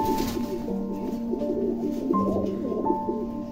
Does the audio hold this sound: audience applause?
no